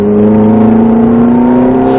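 Ferrari car engine revving while driving, a loud steady droning hum that climbs slightly in pitch, heard from inside or very near the car with no talk.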